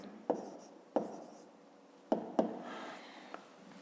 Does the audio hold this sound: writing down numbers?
yes